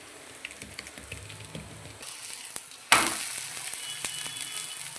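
Oil is poured around the side of a coriander thalipeeth in a pan. A quiet sizzle with light stirring jumps to a sharp, louder burst of sizzling that then settles into a steady crackle, with no voices.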